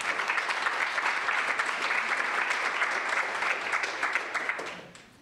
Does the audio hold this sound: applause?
yes